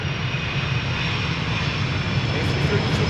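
KLM Airbus A330-200 returning from Toronto at Schiphol in rain, a steady near engine drone with a low rumble and a faint high whine, constant throughout.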